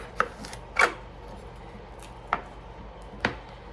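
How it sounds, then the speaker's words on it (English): A knife halving an English cucumber on a cutting board, four crisp separate chops at irregular intervals, close and clear with no talking. "Next, we're going to use half of this English cucumber. We're going to cut it in half."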